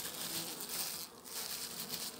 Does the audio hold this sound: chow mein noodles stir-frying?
no